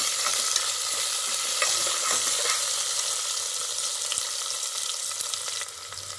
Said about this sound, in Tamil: இப்போ ஆனியன், வெங்காயம் நல்லா இதை வதக்கிடணும்.